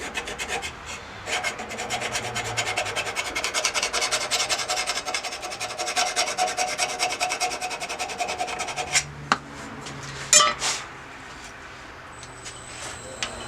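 A card scraper gets a fresh burr from a burnisher in a woodworking shop: about eight seconds of steady, close rasping strokes of steel on steel, then a few short, sharper scrapes with brief pauses. No talking.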